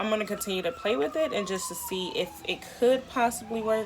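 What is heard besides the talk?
siren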